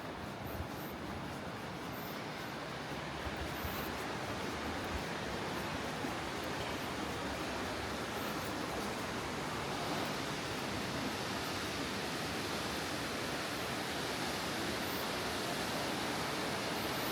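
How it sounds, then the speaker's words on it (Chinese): Water rushes down a waterfall with a drop of roughly 100 meters, making a steady, dense, unbroken roar at low level for the whole stretch, with no voices. "一路上能听到滔滔的水流声啊"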